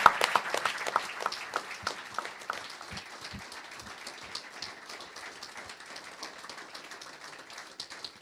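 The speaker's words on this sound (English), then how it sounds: "Please give our panel a big round of applause." A football club fans' forum audience claps for the panel, opening with a loud burst of applause that settles into steadier, thinner clapping and carries on for several seconds.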